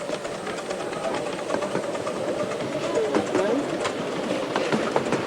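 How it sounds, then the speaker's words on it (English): A 7¼-inch gauge miniature railway train rumbles steadily along with rhythmic clicking of wheels on track, continuous and fairly close throughout. "Passing through the marshalling area and picking up the token is Mr. B. Jones"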